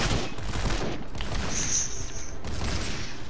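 Fortnite Save the World gunfire rattles in a continuous loud volley of rapid shots over about three seconds, with metallic clanks mixed in and no voices.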